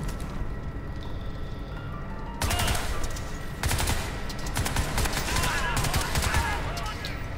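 Automatic gunfire in the video game Crysis 3, dense rattling bursts that start abruptly after a quiet stretch and keep going in loud, sustained volleys with brief gaps.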